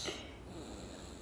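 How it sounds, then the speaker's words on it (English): A hot, red-cheeked baby with congested breathing snores faintly and steadily at close range, a soft raspy wheeze across each breath with no talking. "He's snoring because he can't breathe."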